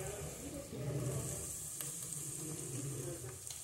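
Calabresa sausage dropped into a pan of softened onion, sizzling steadily with a bright frying hiss and a few soft stirring knocks, close and continuous, no talking.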